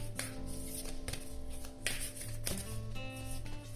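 Tarot cards being shuffled, giving a continuous run of papery riffling and soft slaps at close range with no voices, though the steady tonal layer suggests background music playing throughout.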